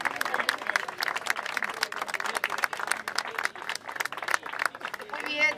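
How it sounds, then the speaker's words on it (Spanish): Crowd applause at the 2012 Maratón del Inmigrante awards ceremony as a tenth-place runner from Berisso is announced, a steady bed of dense clapping lasting throughout, with a voice briefly rising near the end. "Fuerte aplauso"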